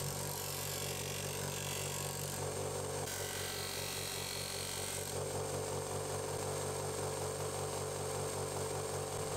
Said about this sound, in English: I can then set my grinder support table to a 25 degree angle and start reshaping